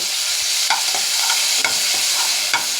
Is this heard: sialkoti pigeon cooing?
no